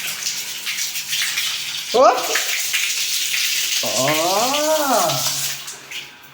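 A shower spraying water during bathroom cleaning, a loud steady hiss throughout, with a person's short exclamations cutting in briefly over the spray.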